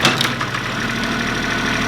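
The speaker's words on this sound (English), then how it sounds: "what he can do with this little old Kubota tractor" A small old Kubota tractor engine runs nearby in a barnyard, a loud, steady diesel chug with a rapid knocking rhythm throughout.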